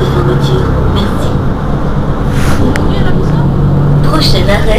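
Articulated Mercedes-Benz Citaro G C2 city bus of the RTM fleet running on line B2 in Marseille, heard from inside as a steady engine and road rumble with faint cabin noise, continuous and moderately loud.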